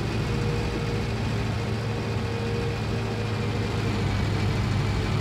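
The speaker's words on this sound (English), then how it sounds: "You can really tell that this engine is struggling." A car engine drones steadily, loud and rough, with heavy low rumble and little change in pitch across the stretch, as if it were labouring under load.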